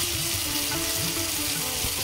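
Bay leaf, dried red chilli, whole garam masala and cumin seeds sizzle in hot oil as a tempering, giving a steady, loud, crackling hiss with no pause.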